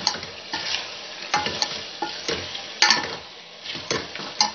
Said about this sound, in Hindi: अब हम इसमें पोटैटो ऐड कर देंगे और अच्छे से मिक्स करेंगे।